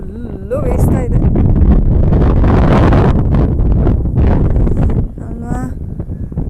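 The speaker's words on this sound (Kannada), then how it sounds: "ಏನು ಗಾಳಿ ಬೀಸ್ತಾ ಇದೆ ಅಂದರೆ" Strong wind blowing across a hilltop view near RR Nagar, a loud continuous roar and microphone buffeting close up, with a voice speaking through parts of it.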